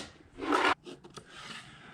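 A saw or rasp works a piece of furniture wood for a fishing rod stand with one loud, close scraping stroke, followed by a few lighter scrapes and rustles.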